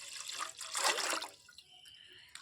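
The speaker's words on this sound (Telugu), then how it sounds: "ఇలా ఒక బౌల్లోకి బియ్యం కడిగిన నీళ్ళు తీసుకోవాలి." Rice-washing water pours into a bowl as part of a homemade soap-nut shampoo, a brief splashing trickle that swells near the middle and then thins to light drips.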